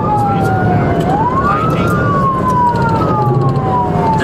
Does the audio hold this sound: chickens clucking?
no